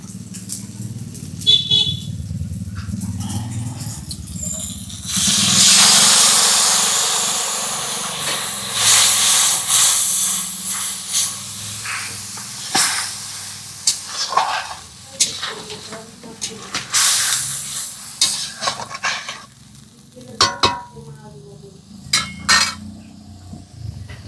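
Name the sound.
mustard paste added to hot oil, sizzling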